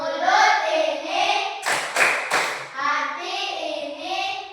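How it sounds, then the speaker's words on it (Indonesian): A classroom group does a rhythmic thank-you clap, with three loud unison claps in quick succession in the middle, surrounded by voices speaking or chanting together. "mari kita tepuk terima kasih"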